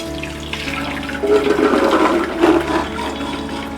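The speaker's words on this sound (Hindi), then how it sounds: "छलनी में छान के पानी निकाल देंगे।" Water from boiled moong sprouts pours out through a sieve, a close splashing gush that swells in two surges over a faint background hum, with no talk.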